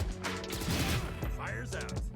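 Vandal rifle gunfire from the video game Valorant, a dense burst of rapid shots layered with other game effects and a voice talking over it, loud throughout.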